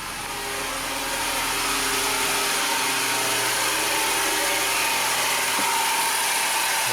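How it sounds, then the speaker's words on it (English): A 2019 Honda engine idles with its faulty AC compressor engaged, giving a loud, steady, rough whirring drone that holds throughout without any talk. "The compressor's on and it's engaged, but it sounds horrible."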